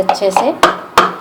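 A cup of oiled biscuit Bournvita cake batter is tapped on a counter to knock out air before microwaving. Four distinct close taps land under a woman's speech.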